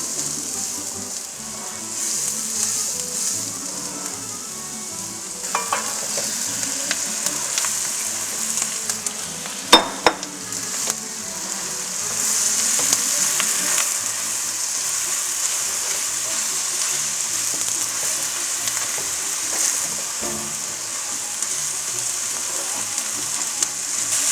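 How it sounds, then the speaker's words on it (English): Chopped onion sauteing in a pan for Russian pirozhki filling, a soft continuous sizzle with occasional light utensil clicks and stirring, steady and moderately quiet with no talk. "onion, and we'll saute it slightly till it becomes a little transparent"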